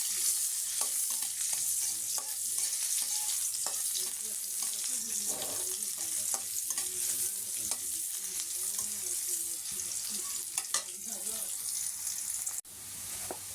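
Food is stirred in a pan right after a light pinch of salt goes in, giving a steady sizzle with repeated utensil scrapes throughout, fairly close; it cuts off briefly near the end.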